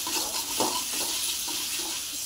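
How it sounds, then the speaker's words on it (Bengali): Onion, garlic and ginger fry together in a hot pan for a north Bengal home-style masala, giving a steady close sizzle with soft stirring scrapes throughout and no voices. "পেঁয়াজ, রসুন, আদা সব একসাথে বেশি করে কড়া করে ভাজা যাবে"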